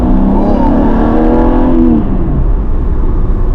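A Porsche 914/6 flat-six engine roars loudly from close by, pitch climbing under acceleration before dropping away as the revs ease off.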